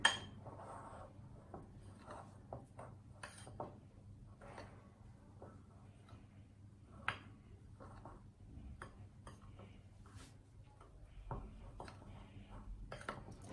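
Flour and baking powder stirred together in a bowl for an almond cake, with quiet scraping and light clinks of a utensil against the bowl in irregular strokes, fairly soft and close.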